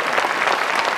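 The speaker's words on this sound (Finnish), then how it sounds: "Annetaan pienet aplodit vielä." A stadium audience at a horse and carriage driving show gives a brief round of applause for a driver, dense steady clapping from a large crowd all through.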